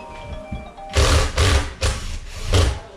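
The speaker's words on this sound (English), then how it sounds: "Now I'm just going to go around and I'm going to tighten the screws all the way around." Screws are driven tight on an in-ceiling speaker mount, heard as four or five short, loud, whirring bursts from a powered driver, close by and separated by brief pauses, with no talking.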